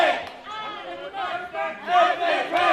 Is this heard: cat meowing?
no